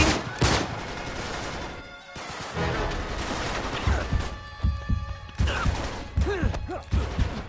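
Grenade blasts and gunfire in Uncharted 3 come as a string of sharp bangs and heavy crashes. Pops and thuds hit at uneven intervals over rumbling game sound, and a voice is heard in between.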